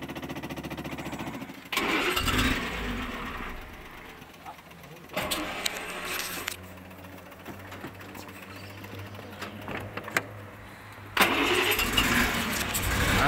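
A Jaguar car engine, said to run on Cognac, is started with the choke in several separate bursts of loud cranking and rough running, with quieter gaps between them.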